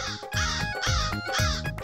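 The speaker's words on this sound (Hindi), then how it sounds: "कौआ बोला काय" A crow caws in three harsh, evenly spaced calls, loud and close, amid a playful musical children's show setting with no talk over it.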